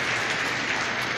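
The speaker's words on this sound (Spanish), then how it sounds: "Dale un buen aplauso al Rey de Reyes." A church congregation applauds at a sermon, a short stretch of moderately faint, steady clapping from many hands.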